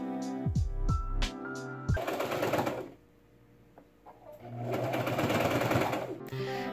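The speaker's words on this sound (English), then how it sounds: "Then I sandwiched the ruffle between the collar pieces and sewed it up." A sewing machine stitching a fabric ruffle sandwiched between black dress collar pieces, heard as a steady mechanical whir after a few short bursts, fading briefly before running again, near and fairly loud.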